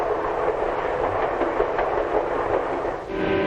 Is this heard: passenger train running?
yes